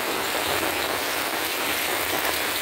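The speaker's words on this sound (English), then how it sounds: "the rain hitting the umbrella, if you can hear that" Rain drums steadily on an umbrella overhead by a creek on a stormy day, a dense close hiss of pattering drops with no voices.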